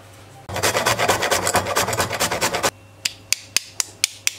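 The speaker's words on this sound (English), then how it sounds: "So I'm going to grate my nutmeg here." Whole nutmeg is grated for a chicken stew with fast, scratchy rasping strokes close up for about two seconds, followed by several sharp taps of the grater.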